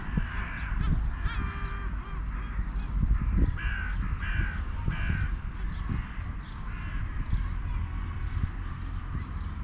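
Crows caw repeatedly at an outdoor feeding spot, the harsh calls coming in clusters over a steady background hum, fairly close and clear.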